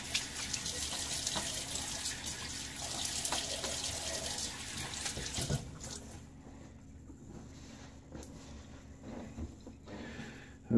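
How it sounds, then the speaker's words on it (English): Water runs from a tap into a sink while hands splash it onto a face during a wet shave, a steady close rush with scattered splashes that thins out midway and then continues more quietly. "splash face with water"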